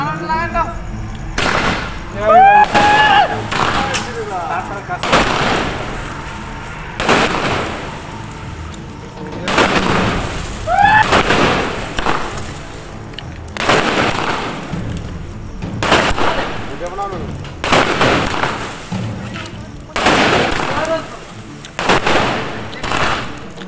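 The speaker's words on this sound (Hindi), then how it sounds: "कल रात से ही पटाखे और मिठाइयां बांटनी शुरू कर दी है" Firecrackers go off in celebration in Chandankiyari, Jharkhand, sharp bursts at irregular intervals throughout, with people talking and shouting between and under the bangs.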